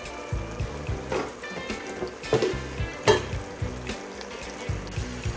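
Bottle gourd pieces sizzle in a hot frying pan while being stirred. Repeated close scraping and stirring strokes rise in short bursts over the continuous frying hiss.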